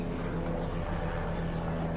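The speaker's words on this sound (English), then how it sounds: "Just come and chill and listen to the air traffic go by." A steady low drone of passing air traffic overhead outdoors on a sunny day, a constant distant engine rumble with no clear peak, heard without talk.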